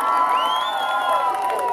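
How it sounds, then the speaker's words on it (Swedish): A crowd at a Pride festival cheers and claps for Robin, with a rising whoop standing out over the steady, dense crowd noise. "Och en stor applåd för Robin!"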